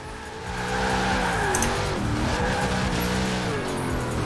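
A Ford Ranger Raptor drifts in Forza Horizon 4, its tires spinning and squealing over a revving engine that rises and falls in a loud, continuous run.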